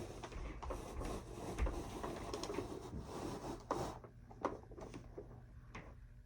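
A home printer prints a picture indoors, with a steady mechanical whir, rhythmic feed clicks and a few sharp clunks near the end, soft and close.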